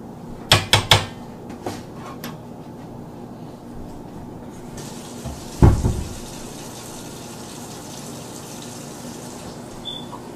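Water poured into a pan during home cooking of egg foo young: a few sharp clattering hits at the start, then a brief louder splash and gush midway, over a steady low hum with no talking.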